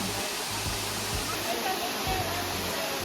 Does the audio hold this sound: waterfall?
yes